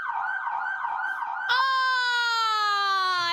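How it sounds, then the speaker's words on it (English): A police car siren left running in a game, first a fast warbling wail, then switching abruptly to a loud, sustained, slowly falling electronic tone, close and alone. "now she's just going to be annoying and leave the sirens on"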